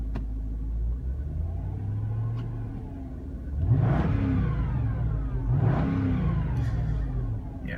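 A Mercedes-AMG C43 engine revs up twice in quick succession, each rev a loud rising roar over a steady idle rumble, heard close with no talking.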